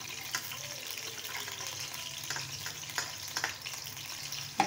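Chopped onion and garlic sizzling in ghee over low heat, a steady soft frying hiss with faint crackles and occasional stirring clinks, heard close and alone without talk.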